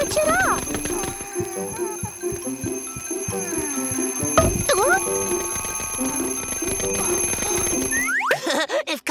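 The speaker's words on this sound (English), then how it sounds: "Cupcake needs to put her alarm clock away from her bed." A cartoon alarm clock in the Kid-E-Cats animated series rings with a bright, sustained jangling tone over several seconds, mixed with voices, bouncy effects and music, then cuts off near the end.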